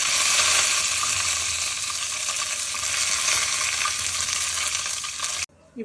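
Curry leaves hitting hot sesame oil while tempering for coconut chutney, with a loud continuous sizzle and crackle that holds steady for several seconds and then cuts off abruptly.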